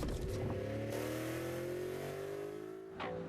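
A 556-horsepower Cadillac CTS-V engine with manual transmission revs up, its pitch climbing smoothly through a gear, loud and close, then briefly surges again near the end.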